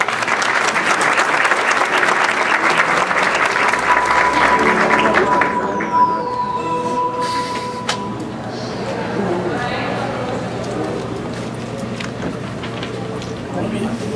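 An audience welcomes a speaker with a strong round of applause that is loudest in the first half, then fades into room noise and chatter while someone speaks.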